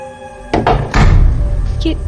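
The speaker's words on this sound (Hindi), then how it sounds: "ये दरवाजा कैसे बंद हो गया? वो भी अपने आप?" In a haunted house story, a door shuts by itself with a loud, close thud followed by a heavier slam and a dull rumbling tail, with a faint creak near the end.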